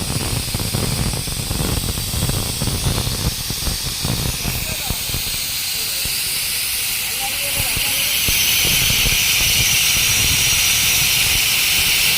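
Air hisses loudly out of a tyre at a puncture shop in Karnataka, a continuous rushing hiss that grows stronger toward the end, with talking underneath in the first half.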